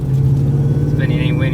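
Shelby GT500 on drag radials and Weld wheels launching above 3,000 rpm and spinning its tires, a loud deep engine drone with a brief high tire squeal near the end, close by, with a voice speaking over it.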